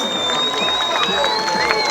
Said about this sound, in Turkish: Alkışlarınızla başkanımıza hoş geldiniz diyoruz.